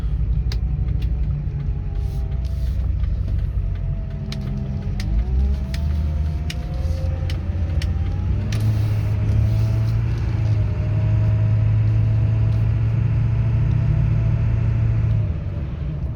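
A 2002 Ford F250 with the 7.3L diesel and 4WD drives down a road, its engine a steady low rumble throughout, rising into a stronger droning tone partway through as it pulls along, with no talking.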